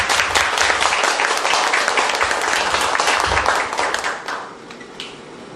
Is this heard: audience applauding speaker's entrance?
yes